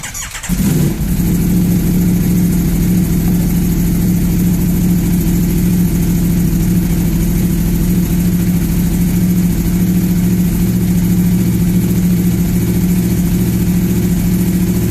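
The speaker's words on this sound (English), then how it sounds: "We're going to quickly start the bike up and see if there's any dramas there" An Aprilia Tuono V4 1000 motorcycle engine cranks and fires within the first second, then settles into a loud, steady, rumbling idle that holds close up for the rest of the clip.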